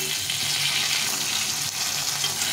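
Small young carp fry in oil in a pan, a close, steady sizzle with soft crackles running throughout and no talking.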